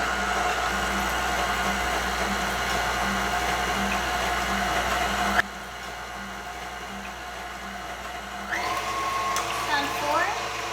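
An electric mixer whirs steadily and loudly while making lime pie, then its pitch drops as the speed changes, continuing with a motor drone and occasional scraping.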